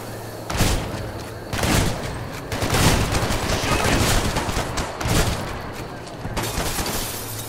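Gunfire in the video game Hatred comes as repeated bursts of loud automatic shots and booming blasts, several clusters across the stretch, close and heavy, with a voice speaking between them.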